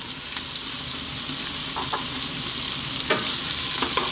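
Broccoli with sliced garlic sizzles loudly in a hot pan on lively heat, a dense constant frying hiss close up, with a few soft stirring scrapes breaking through.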